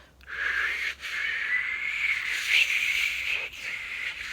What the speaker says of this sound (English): I don't know how to whistle.